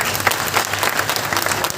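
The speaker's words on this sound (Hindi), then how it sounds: "एक बार तालियां बजाएं निर्मल जी के लिए।" A seminar audience claps for Nirmal ji, a fairly loud, busy patter of many hands with uneven bursts, continuing without pause and no clear talk over it.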